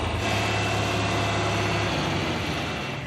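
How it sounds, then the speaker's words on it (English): An old Iowa tractor engine idles steadily up close, a constant low, rumbling hum with an even mechanical throb and no talking over it. "Unbelievable experience driving a tractor."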